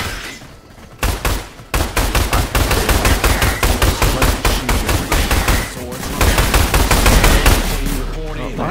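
Rapid gunfire from the shooter game Orion Prelude, a fast run of punchy, loud shots in near-continuous bursts with brief gaps, close up, with a voice speaking over it at times.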